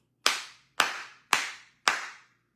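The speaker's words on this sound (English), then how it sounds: "Clap yourself." Four sharp, evenly spaced claps ring out alone, each with a short decaying tail, loud and close in an otherwise quiet space.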